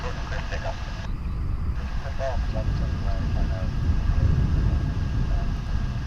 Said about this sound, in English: Let's zero in now on Korean Airlines Flight 31. We'll get the nice long look at it as it approaches.